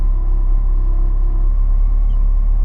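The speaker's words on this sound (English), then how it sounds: "Got a car coming. I'm just gonna patiently wait for it to go by." A car's steady engine rumble holds throughout, loud and close with a constant low hum, like a vehicle passing nearby.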